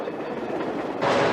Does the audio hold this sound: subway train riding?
yes